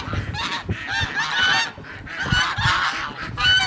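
Several male ducks honking repeatedly in a backyard flock in cold weather, loud harsh calls overlapping in bursts, close by, with no talk.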